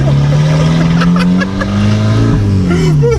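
Straight-piped Volkswagen GTI with a 3-inch downpipe and turbo, revving hard: a loud, close, droning exhaust roar that dips briefly then climbs again, with excited voices talking over it.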